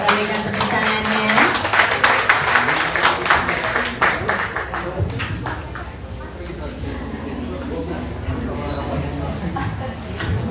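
Audience applause at a coffee launch event, a few seconds of brisk clapping from a crowd mixed with an announcer talking, fading into continued talk and room noise.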